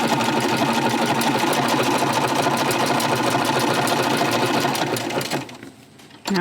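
Sewing machine stitching a Halloween quilt block, a loud continuous rapid mechanical whir for about five seconds that slows and stops, then starts up again.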